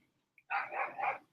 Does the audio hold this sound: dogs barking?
yes